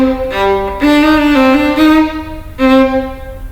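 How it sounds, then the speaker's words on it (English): Violin trills ending in Nachschlag grace notes, played slowly and up close: sustained bright bowed tones with quick fluttering alternations and small closing turns, two phrases separated by a brief pause. "The Nachschlags are the grace notes that come after the trills."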